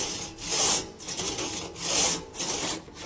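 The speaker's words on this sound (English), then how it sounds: "we're just going to pull a few times to make the first few little grooves into the wood." A restored old hand saw makes its first short pulls into a small log, giving a rhythmic rasping stroke roughly every second or so, close and clear with no voices.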